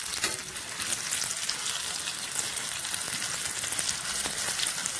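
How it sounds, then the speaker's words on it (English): Stuffed chilli bajji, battered chillies, frying in hot oil after being turned over, giving a steady close crackling sizzle throughout with no talking. "I'm just going to flip them over and cook the other side"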